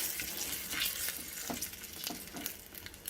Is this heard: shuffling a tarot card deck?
no